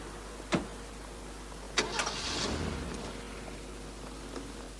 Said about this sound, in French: Très bien, je vais la garer là-bas et je vous attends.